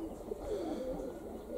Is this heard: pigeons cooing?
yes